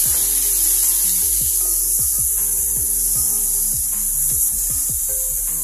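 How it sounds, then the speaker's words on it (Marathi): Grated carrot being sautéed with cashew and almond slivers in a pan, a steady close scraping and stirring texture with repeated soft spatula strokes over a constant hiss. "आता आपण हा गाजराचा किस ह्याच्यामध्ये घालून परतून घेणार आहे।"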